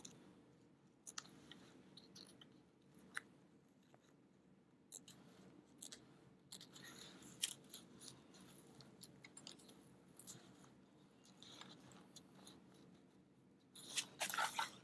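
Scissors snip fabric while a bag is sewn, with quiet scattered cuts and clicks over a faint background and a brief flurry of snipping near the end.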